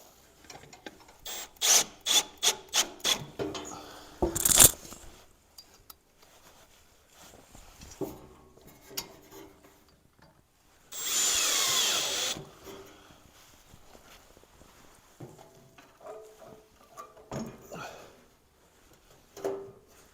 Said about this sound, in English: I'm going to go ahead and put a couple of these screws through the bottom of it